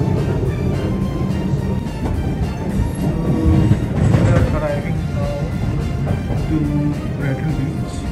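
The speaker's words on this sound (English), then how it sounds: "Our train has started." Steady rumbling of a moving commuter train heading to Brighton Beach, Melbourne, with a low rhythmic clatter, faint voices mixed in under the continuous noise.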